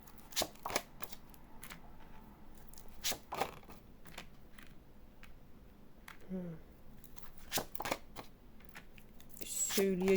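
Tarot cards being shuffled in bursts of riffling and slapping, close and fairly crisp, with someone speaking between the shuffles.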